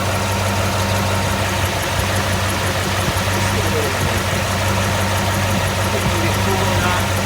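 A 1965 Ford Ranchero engine idles steadily at close range with the compressor engaged, a loud, even mechanical rumble with a constant low hum and no pauses.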